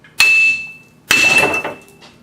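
Two loud metallic hammer strikes on the spindle of a Toyota Camry damaged in a demolition derby, each ringing out with a bright, sustained tone before fading, close to the listener with no talk.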